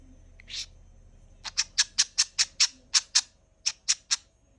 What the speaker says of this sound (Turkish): Kuş olduğunu mu hatırladın? Ötüyorsun.